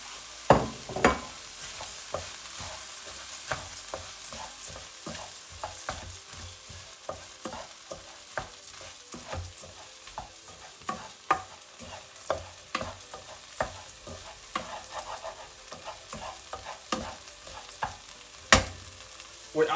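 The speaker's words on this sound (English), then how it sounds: "We are going to toast them a little bit before we add the stock." Risotto rice toasted, stirred and scraped around a hot frying pan, with a soft steady sizzle and irregular clicks and scrapes throughout, close by and moderately quiet.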